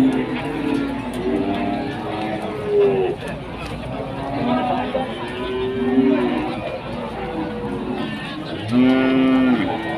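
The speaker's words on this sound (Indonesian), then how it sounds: "Inilah situasi dan kondisi dari pasar sapi Pon." Cattle moo repeatedly, long low calls rising over a busy crowd of people chatting at a noisy cattle market in Jaken, Pati, Indonesia.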